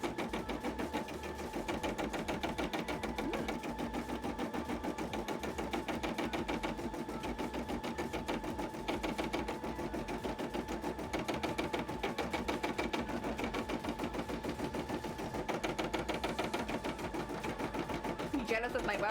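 An embroidery machine stitches sequins in a fast, steady mechanical chatter of needle strokes, continuous and close, with a person talking over it at times.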